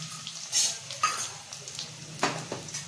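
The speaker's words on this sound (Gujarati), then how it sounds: "હવે તેલ આવી ગયું છે, એમાં આપણે જીરું નાખીશું, હિંગ નાખીશું" Cumin seeds and asafoetida hit hot oil in a pan, giving a soft steady sizzle under several sharp clinks and scrapes of a metal spoon stirring against the pan, close by with no talking.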